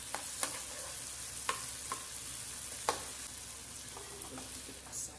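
Garlic pasta sizzles in a pan over high flame, a steady bright hiss punctuated by several sharp clicks and scrapes of stirring.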